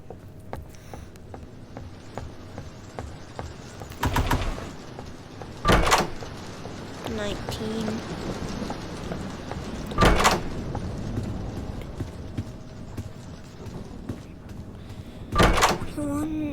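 Closets and doors opening in the horror video game DOORS, heard as several separate thuds and clatters spaced a few seconds apart over a steady game background.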